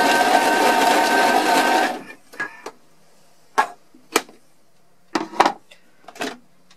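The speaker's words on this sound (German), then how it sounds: "in den Thermomix einsetzen, kurz auf Stufe 5, 6 und wieder zurück." A Thermomix TM31 kitchen machine briefly spins flatbread dough against the bowl wall, a loud steady whirring for about two seconds that cuts off, followed by scattered clinks and knocks of handling.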